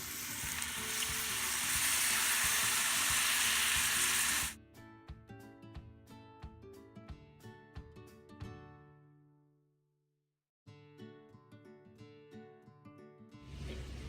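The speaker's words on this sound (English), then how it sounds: "add all the smashed ingredients into the frying chistorra" Chistorra sausage fries in a pan with a loud, steady sizzle for the first few seconds, then gives way to music for the rest of the clip.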